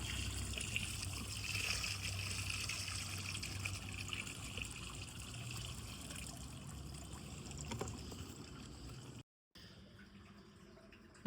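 Water from a jug pours gently into a fish tank in a soft, continuous trickle, quiet and steady, with no voices.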